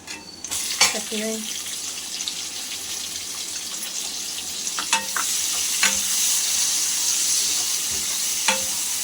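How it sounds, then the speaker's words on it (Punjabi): Chopped onions frying in a pan for ghiya dal give a steady sizzle that grows louder, with occasional stirring scrapes and clinks of a utensil, and no talk. "ਇਹਨਾਂ ਨੂੰ ਚੰਗੀ ਤਰ੍ਹਾਂ ਭੁੰਨਾਂਗੇ ਜਦੋਂ ਸਾਡੇ ਪਿਆਜ਼ ਗੁਲਾਬੀ ਹੋ ਜਾਣਗੇ"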